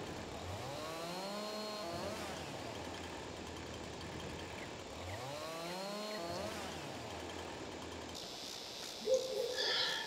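In a farming video game, a chainsaw drones steadily as it trims down a felled tree, its pitch rising and falling in repeated revving sweeps, with a clatter near the end.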